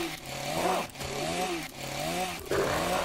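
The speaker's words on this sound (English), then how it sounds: "This chainsaw is going to annoy me." A chainsaw running close by, its engine droning loud and rough with a few quick dips and surges as the throttle eases and revs again.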